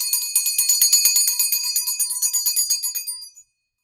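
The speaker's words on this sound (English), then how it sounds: "We're going to start clearing with my mom's bell." A small high-pitched bell rings rapidly and continuously for a few seconds, bright and metallic, then stops abruptly; nothing else is heard.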